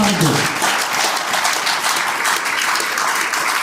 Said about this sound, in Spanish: pido un fuerte aplauso en esta tarde